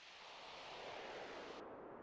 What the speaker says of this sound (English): Just the howling wind is all there is.